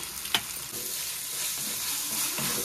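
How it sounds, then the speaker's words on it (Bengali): A spice masala with a splash of water and tomato ketchup sautés in a pan, giving a soft continuous sizzle and hiss with a faint scrape of stirring near the start, quiet and close with no voices. "মশলার কাঁচা গন্ধটা যাওয়া পর্যন্ত কষিয়ে নেব।"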